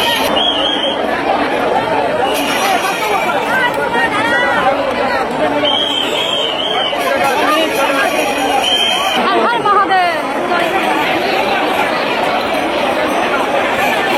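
Loud, continuous crowd chatter at a packed Howrah station during the Shravan month pilgrimage rush, with many voices overlapping into a dense hubbub and a few louder calls rising now and then.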